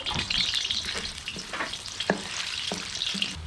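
Onion frying in oil for a large batch of Russian plov, with a steady bright sizzle and occasional stirring clacks close by.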